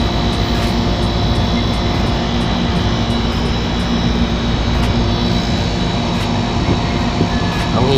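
An outdoor air conditioner unit's fan runs steadily during fault troubleshooting, giving a loud, continuous broadband whoosh and hum close up with no pauses throughout.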